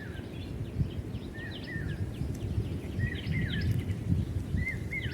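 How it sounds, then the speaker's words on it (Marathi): A bird locally called paypidha calls repeatedly in a rural outdoor setting, short rising whistled notes recurring every second or so at moderate distance over a steady background hum of insects and rustle. "इकडे एक पक्षी आवाज करतोय."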